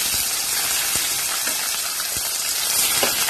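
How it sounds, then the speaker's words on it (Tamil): Onions hit hot oil along with sautéed ginger and garlic while cooking a capsicum chickpea curry, giving a loud, dense, continuous sizzle and hiss with no voices over it. "இப்போ இந்த வெங்காயத்தை ஆட் பண்ணிக்கலாம்"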